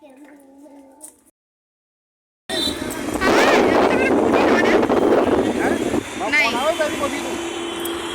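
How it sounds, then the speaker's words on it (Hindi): Strong wind gusts outdoors, blustering loudly against the microphone as a steady broadband roar, briefly interrupted by silence, with someone talking over it. "बड़ी हवा चल रही है"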